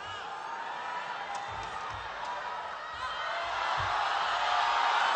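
Crowd cheering and whooping at a professional badminton doubles match at the HSBC BWF World Tour Finals, a steady roar that swells louder toward the end.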